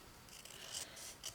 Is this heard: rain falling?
no